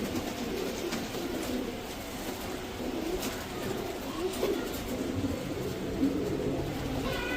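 Punjabi pigeons cooing in a steady, low murmur throughout, with several birds close by against an outdoor background of ambient hum.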